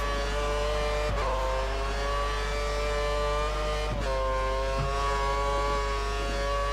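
Lotus Formula One car engine in the racing game F1 2013 at the Spanish circuit, a steady high-pitched whine with sharp drops around one and four seconds as the driver shifts down through a corner, continuous and loud without talk.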